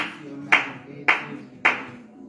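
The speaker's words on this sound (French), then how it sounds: "Acclamez-les, acclamez, acclamez." A church congregation at a morning prayer service breaks into three distinct short bursts of clapping, evenly spaced about half a second apart, each fading quickly.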